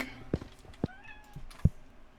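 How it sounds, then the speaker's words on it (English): A pet cat meows in the background indoors, three short faint mews spaced about half a second apart. "Y'all can hear my cat in the background,"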